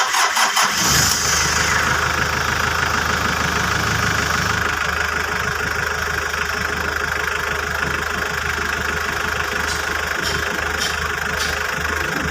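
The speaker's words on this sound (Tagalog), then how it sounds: "Pero papanda rin ko yung makina para malambot." A car engine cranks and catches at the start, then settles into a steady, close idle that drones on evenly.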